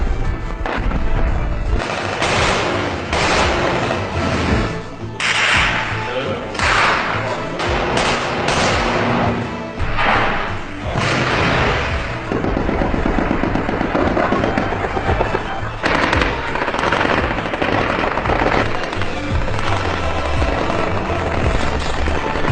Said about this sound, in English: Is the Egyptian army shooting rockets, RPG, missiles, tanks?